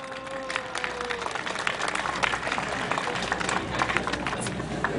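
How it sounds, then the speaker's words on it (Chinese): An outdoor crowd on a New Year's Day walking event claps in a soft, continuous patter of many hands, fairly distant and steady, after a voice trails off at the start. "我们就说掌声好不好？"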